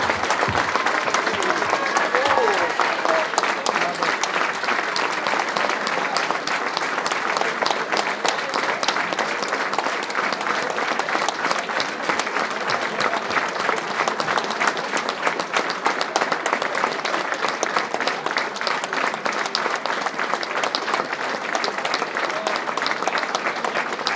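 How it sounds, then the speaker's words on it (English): Sustained applause from a boxing event crowd at a racecourse venue in Ayrshire, given as a minute's tribute; dense, steady clapping fills the whole stretch at an even loudness with a faint murmur of the crowd beneath. "in honour and memory of Jim, we will ask everyone to join us for a minute's applause."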